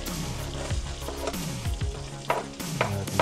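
Garlic sizzles in hot butter in a pan for cajun shrimp, a steady close crackle broken by several scraping stirs of a utensil, with no talking.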